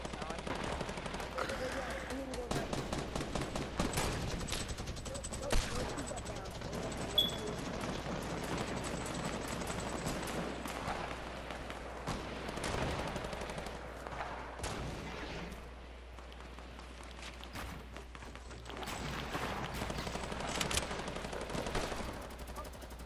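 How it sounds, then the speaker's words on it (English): Rapid gunfire crackles in dense bursts, with occasional sharper single shots standing out among sustained volleys, and voices talk intermittently underneath. "Well, I hear mad shooting, boy."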